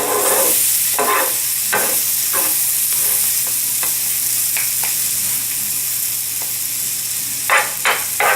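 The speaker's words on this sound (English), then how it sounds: "mixing the peppers and onions and mushrooms all together" Peppers, onions and mushrooms frying for cheesesteak, a constant loud sizzle with steady hissing and repeated scraping stirs of a utensil against the pan, close and without talk.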